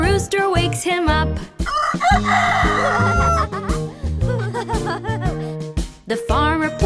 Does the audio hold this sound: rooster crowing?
yes